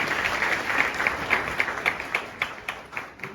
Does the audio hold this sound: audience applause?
yes